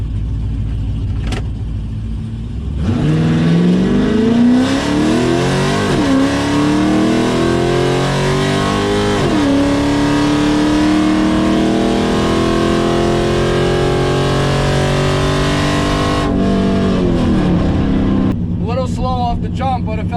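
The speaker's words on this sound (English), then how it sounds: "So it's my first pass of the test and tune day. First pass with no mufflers," An unmuffled drag race car makes a test pass at a Kansas test and tune day, its loud open exhaust roaring up through rising gear pulls with brief dips at each shift, then settling as the run ends.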